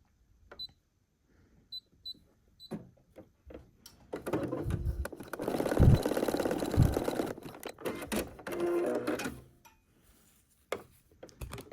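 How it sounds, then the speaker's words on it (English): A sewing machine runs a zigzag stitch over elastic for a fabric hair scrunchie. It makes a few short whirring bursts, then a longer close rattling run, with soft handling clicks between. "I like to sew it using zigzag stitch"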